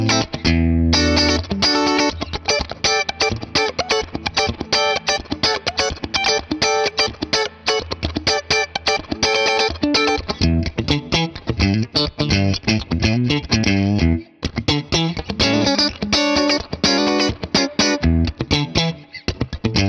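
Funky electric guitar through a Princeton amp plugin with a compressor in front and no reverb or delay, playing tight, rhythmic choppy strums and short stabs that stay punchy and even in level.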